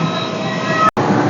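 A train at an international railway station in Bangalore, a loud steady rumble with metallic wheel squeal tones and a brief dropout near the end.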